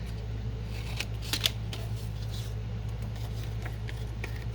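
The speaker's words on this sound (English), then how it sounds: "I'll grab some music sheet here and chop this down" Scissors snip through a sheet-music page in a few quick, close cuts clustered together, set against a steady low electrical hum.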